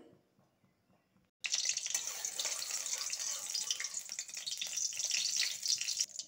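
Mustard oil in a wok for a tangy-sweet jujube pickle, with a near-silent pause giving way to a loud, steady hiss and crackle close by that runs on without talk.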